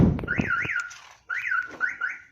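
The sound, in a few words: car alarm triggered by trying to open a door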